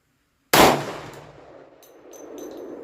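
A single loud shot from a Glock 20 pistol with a 5-inch barrel, firing 10mm Federal HST ammunition, cracks out of silence and leaves a long, fading echo with faint clinks afterward.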